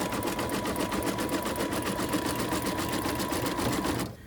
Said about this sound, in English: I'll make sure the machine's allowed to move back and forth as it's supposed to.